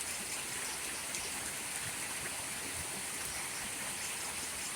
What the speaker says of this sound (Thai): เอาบรรยากาศยามเช้าฝนตก ที่อำเภอทวัดบุรีมาฝากท่านผู้ชมเอฟซี